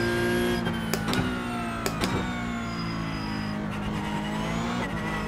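Race car engine from a racing simulator game driven with a Moza R9 direct drive wheel, loud and continuous, revs rising and falling through several gear shifts with brief tire squeal and bumps over kerbs.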